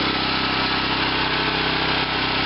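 A small, nearly new engine fitted with its original muffler runs at a loud, steady drone on a reactor setup, close and unbroken with no talking.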